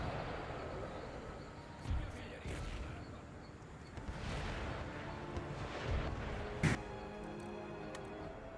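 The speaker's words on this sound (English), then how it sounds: "I'll let my artillery fire at will on the centre." Artillery fire in the video game Empire: Total War, with scattered booms and sharp reports over a continuous rumbling battlefield din, moderately distant, with a voice talking faintly beneath.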